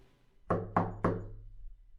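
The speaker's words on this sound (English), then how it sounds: "Walking gingerly, he knocks on the door." Three firm knocks on a door with an ajar frame, evenly spaced about a quarter second apart, close and clear against a quiet room hum.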